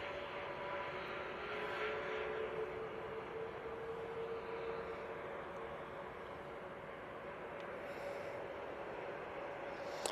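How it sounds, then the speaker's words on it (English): A Turkish Airlines Airbus A321neo arriving at Manchester Airport, its engines a steady, distant, fairly faint roar that holds through the whole stretch with no talking. "Turkish Airlines coming in from Istanbul. They're using the A321neo for this."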